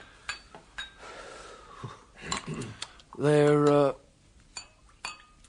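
Glasses of Calvados being served: light clinks of glassware scattered among people talking, with a brief ringing, sustained glassy tone in the middle.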